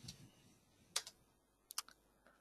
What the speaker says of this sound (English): Here I should type in some label.